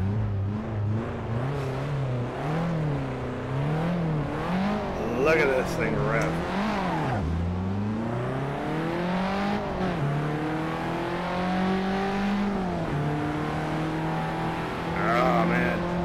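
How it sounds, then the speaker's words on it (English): A classic Alpine A110 engine revs in a racing simulator game, its pitch sweeping up and down through gear changes, steady and prominent, while someone talks over it. "Let's try to get this car going"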